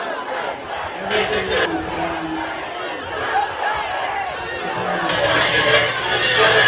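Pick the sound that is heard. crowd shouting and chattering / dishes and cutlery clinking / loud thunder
crowd shouting and chattering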